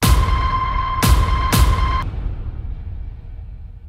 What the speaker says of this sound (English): I've just layered a ton of hits